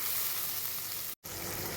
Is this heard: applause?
no